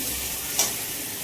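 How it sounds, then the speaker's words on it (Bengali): Spice masala stir-fried in a pan for a fish curry, a dense loud hissing sizzle with one brief scrape of the spoon midway, close up and without voices. "মশলাটা কষে নিচ্ছি ভালো করে। মশলাটা কষা হয়ে যাচ্ছে"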